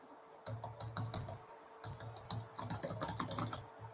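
Typing on a computer keyboard at a desk: close bursts of rapid key clicks and clacks, pausing briefly before resuming in a quick irregular run, with no talking.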